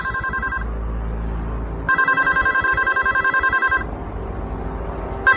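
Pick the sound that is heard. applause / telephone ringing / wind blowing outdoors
telephone ringing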